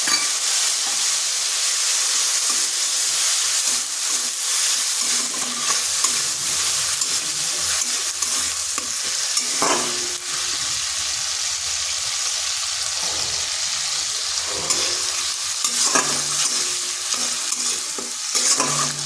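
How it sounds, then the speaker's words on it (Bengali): Tomato, ginger and green chili paste frying in a pan after spices were tempered in oil, with a loud, steady sizzle and hiss throughout and occasional spoon scrapes and taps, close and continuous without any talk. "একটু এটা ভেজে নিলাম যাতে আদার কাঁচা গন্ধটা চলে যায়"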